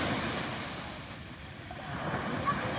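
Ocean surf at San Juan beach in La Union, a steady broad wash of waves with wind rumble against the microphone, continuous and fairly loud throughout, with no talking.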